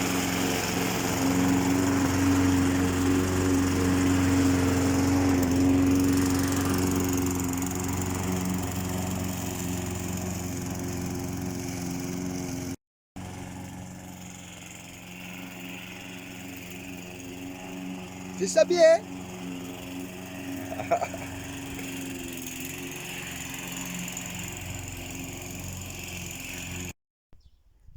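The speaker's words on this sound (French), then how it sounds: "elle passe la tondeuse" A lawn mower engine drones steadily and fairly loud throughout, briefly cutting out midway, with a short spoken remark over it.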